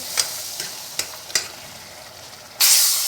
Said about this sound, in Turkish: Bunun soğanını iyice kavurmak lazım.